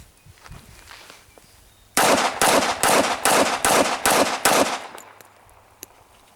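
Springfield Armory 1911-A1 .45 ACP pistol firing outdoors: about seven loud, sharp shots in quick, steady succession, close by, then quiet.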